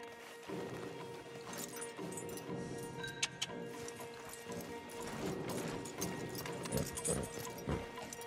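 Horses' hooves clip-clop steadily in Red Dead Redemption 2 as riders lead stallions tethered together, a continuous mid-distance plodding under ambient game sound and music, with a brief sharp clatter partway through.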